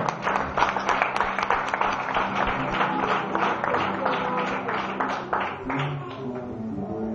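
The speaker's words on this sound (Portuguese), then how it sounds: "Dê uma salva de palmas ao Senhor" Church congregation applauding at a pastor's call to praise the Lord, a dense steady wash of many hands clapping throughout, with crowd noise underneath and no clear speech.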